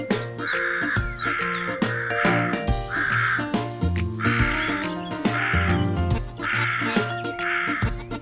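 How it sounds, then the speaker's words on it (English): A crow gives a series of repeated harsh caws in steady rhythm, loud and close, alone over a faint musical background. "Crow. Intelligent bird recognized for their black plumage."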